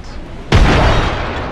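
A frag grenade blows up in the Apex Legends shooter game, a single loud close boom after a brief quiet lead-in that decays into a rumbling tail.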